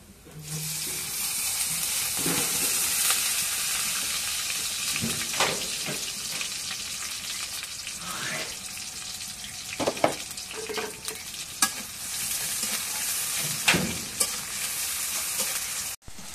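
Onion fries in hot oil while being stirred, a continuous close sizzle broken by several sharp scrapes and knocks of the utensil against the pan.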